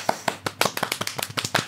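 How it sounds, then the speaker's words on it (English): A small, sparse round of hand claps from three presenters in a studio, with about a dozen distinct slaps in quick, uneven succession, close and fairly crisp. "can we have a small round of applause from all three of us here for Starship"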